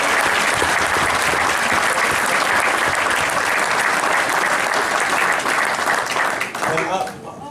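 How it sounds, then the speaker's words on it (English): Sustained audience applause fills a Stoxkarts senior awards ceremony, loud and steady for about six seconds before thinning out toward the end. "Round of applause, please."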